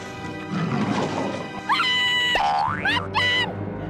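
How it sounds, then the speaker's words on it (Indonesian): A tiger roar in a forest setting, heard as a pair of loud, rising and falling growling calls close by, alone with no talk, following a brief stretch of rustling noise. "Kalau ada macan gimana? Tuh, udah ada suaranya aja."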